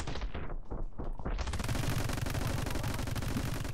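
Gunfire from the video game My Friend Pedro, a dense, continuous run of rapid shots and impacts after a brief swell, loud and close throughout.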